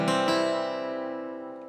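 A clean guitar chord fretted with the fingertips, strummed twice close together and left to ring out, sustaining and slowly fading alone with no muting.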